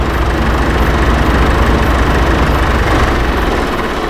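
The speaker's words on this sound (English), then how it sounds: "Pretty cool little tractor here." A John Deere 710 tractor idles on a Montana farm, its steady low rumble continuous and close throughout with no talking.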